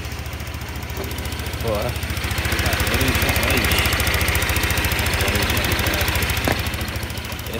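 A stock Honda 160cc scooter fitted with a new racing injector runs close by with a steady, rapid pulsing idle that swells briefly as the throttle is blipped, while someone talks over it.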